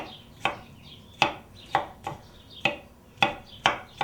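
A knife rough-chops fruit for a fruit salad on a cutting board, about eight close, crisp knocks at an uneven pace with no talking.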